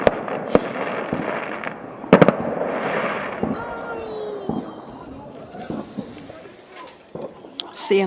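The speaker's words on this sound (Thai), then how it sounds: "พลุนะคะ เริ่มมาเรื่อยๆแล้ว" New Year's Eve fireworks in snowy Norway crackle and bang in sharp bursts, some near and some distant, with a voice talking in between the pops.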